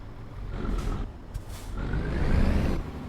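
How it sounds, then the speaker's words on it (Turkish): A Mercedes-Benz Actros truck engine starting in Euro Truck Simulator 2, with a short hiss and cranking leading into a low, building diesel rumble that swells and holds, loud and alone. "Motoru da çalıştıralım ufaktan."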